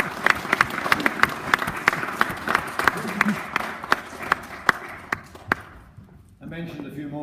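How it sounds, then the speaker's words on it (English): A small gathering applauds at a family memorial event, with sharp individual claps standing out over a soft, steady patter for about six seconds, then a voice begins speaking. "I think that deserves a round of applause."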